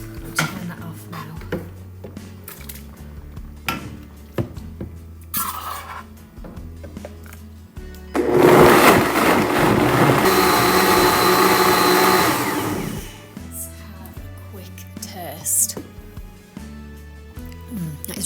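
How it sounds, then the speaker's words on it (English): A blender runs loud and steady for about five seconds, whirring through cashews and white beans for a creamy tomato basil soup, with quieter kitchen clatter before and after. "I'm going to put 1/4 cup of cashews and 1/4 cup of white beans in the blender."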